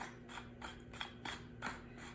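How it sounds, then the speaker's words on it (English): Red pepper being ground in a pepper grinder, a quiet rasping crunch repeated in about six short, even twists. "I always love red pepper, little grind"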